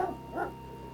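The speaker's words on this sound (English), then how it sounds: "Shadow Dog's gonna eat you." Bark from the shadow dog creature in King's Quest 7, two short mid-pitched bursts a fraction of a second apart over a steady low game hum.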